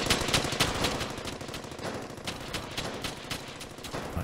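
Squad machine-gun fire in the WWII shooter Hell's Highway, a steady fast rattle of shots that runs close and loud for the whole stretch with no talk over it.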